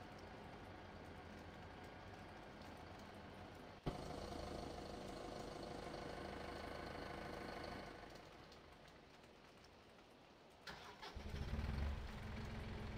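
The engine of a sugar cane planter in Farming Simulator 17 cranks and catches, then settles into a steady mid-pitched run with a brief rev near the end.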